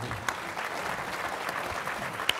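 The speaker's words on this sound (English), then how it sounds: "One last round of applause for our thought-provoking panelists" An audience at a Chicago hospital CEO breakfast panel applauds steadily, a dense patter of many hands clapping at moderate distance, with a few sharper claps standing out.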